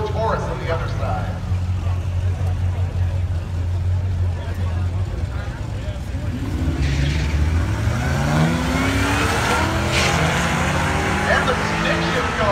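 A supercharged Cougar and a Taurus launch side by side at a budget hooptie drag race, engines rising into a loud, sustained revving roar that swells toward the end over steady crowd and track noise.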